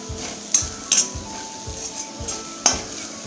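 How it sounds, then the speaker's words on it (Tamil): Cooked rice is stirred into coconut oil in a pan, with a faint sizzle under the spatula and several sharp metallic scrapes and knocks against the pan at irregular intervals. "இப்போ சாதம் போட்டு கிளறிக்கலாம்."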